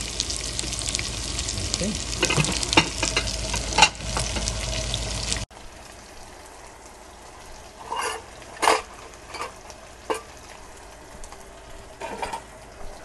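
Beef liver with onion and garlic sizzles loudly in a pan while being stirred, a hissing fry that drops to a quieter sizzle with scraping stirs; a voice speaks briefly.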